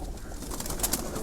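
Pigeons coo softly in a loft, a low murmuring call amid steady background noise, brief and fairly faint.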